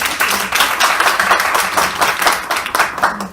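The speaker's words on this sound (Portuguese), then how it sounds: "Por favor, uma salva de palmas para Antônia" Applause from an audience at a law seminar on autism, dense continuous clapping that holds steady throughout with a faint voice underneath.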